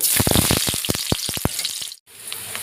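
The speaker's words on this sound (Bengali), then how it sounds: "দিয়ে দিচ্ছি পেঁয়াজ কুচি।" Chopped onions hit hot oil already seasoned with bay leaf, cinnamon, cloves and cardamom, setting off loud, close crackling bursts and a hissing sizzle that stops abruptly, then a quieter hiss continues.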